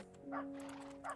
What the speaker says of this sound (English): They're outside dogs.